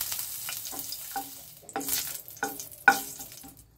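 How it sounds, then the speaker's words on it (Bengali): Dried red chilli and nigella seeds hit hot oil for a Bengali flat bean chachari, crackling and sizzling in sharp bursts as they are stirred in the pan, with distinct pops standing out. "এতে আমি একটা শুকনো লঙ্কাকে একটু ফাটিয়ে দিয়ে দিচ্ছি, আর হাফ চা চামচ কালো জিরে ফোড়নে দিয়ে দিচ্ছি।"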